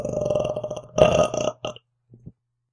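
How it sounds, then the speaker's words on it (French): A man lets out a long, loud burp lasting about a second and a half, followed by two short, quieter croaks, with no background sound. "Non, un rot."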